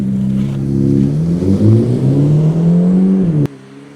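A Ferrari on cold weather tyres launches from a standing start: the engine rises in pitch through a strong acceleration, then cuts off abruptly near the end, loud and close.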